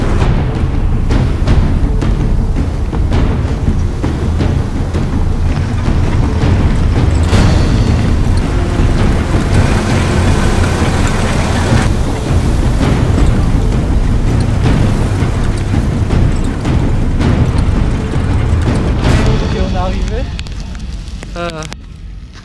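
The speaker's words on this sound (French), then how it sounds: "je suis en train de monter sur ce volcan avec une jeep sous une pluie torrentielle en pleine mousson" Heavy monsoon rain roars continuously around a jeep climbing the slopes of the Merapi volcano, a dense, loud wash of downpour and engine rumble with occasional talk beneath it.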